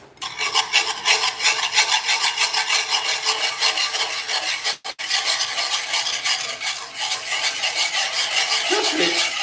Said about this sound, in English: Just combine the sugar and the butter